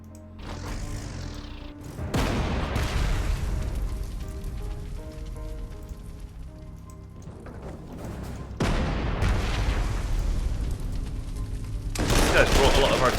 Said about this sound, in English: These guys brought a lot of artillery to this party, huh?